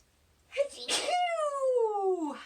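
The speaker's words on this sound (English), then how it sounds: "Sorry, I'm fighting off a sneeze." A close, loud sneeze erupts with a sharp breathy burst, followed by a long drawn-out voiced exhale that trails off.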